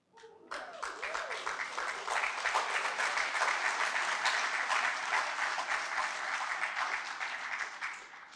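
A school prizegiving audience breaks into sustained, even applause that swells and carries on steadily for several seconds before tapering off at the close.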